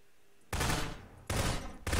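Gunfire in the video game Garry's Mod: three loud bursts of rapid shots, each cutting in abruptly after a quiet stretch, the last one clipped short at the end.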